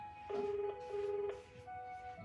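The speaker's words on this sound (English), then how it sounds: "we've got the Seiko musical melodies clock playing some music" A Seiko musical melodies clock chiming a tune indoors, a few sustained electronic tones stepping between pitches, moderately faint under a low room hum.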